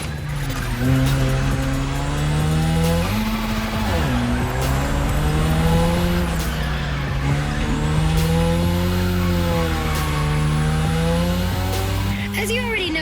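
A car drifts around the drift track in The Crew, its engine droning steadily with pitch dips and rises as it slides, a continuous loud tire squeal running throughout.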